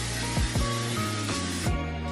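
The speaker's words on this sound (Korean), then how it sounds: "신경 쓰이는 부분에 이 핑크 컬러를 이렇게 스프레이로" Pink hair color spray hisses continuously onto hair at close range, one steady spray burst lasting about two seconds under a music bed.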